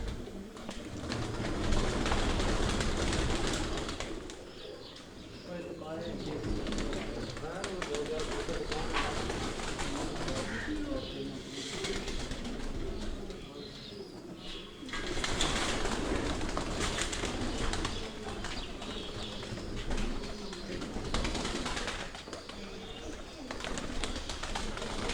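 Teddy pigeons from a racing loft coo repeatedly amid a busy, continuous background of chatter and bustle, with people talking close by throughout.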